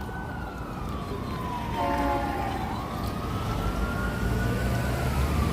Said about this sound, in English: We got some sirens behind me.